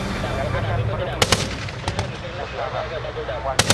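Artillery cannons, a KH-178, a towed 105 and a 76 mountain gun, fire a smoke screen at a TNI AD army combat exercise in Baturaja, with a few sharp distant reports over a steady rumbling background.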